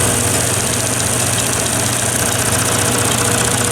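A lathe spins a roll of tape with a steady, dense mechanical whir and a low rhythmic hum, loud and unbroken throughout, with no voices.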